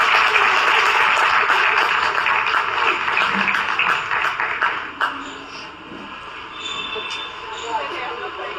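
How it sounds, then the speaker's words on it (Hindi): A crowd claps at a ceremony honouring the family of a freedom fighter. The dense applause lasts about five seconds and then fades to quieter murmuring. "एक बार जोरदार तालियों के साथ"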